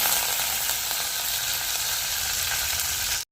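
Curry leaves sizzle and crackle in hot oil for an idli chutney, giving a dense, steady frying hiss, close and loud throughout, that cuts off abruptly at the end.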